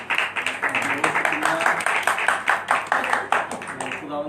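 A church congregation claps to welcome Pastor Imran Bhatti, with steady rhythmic claps at close range filling the room. Voices are mixed in with the clapping.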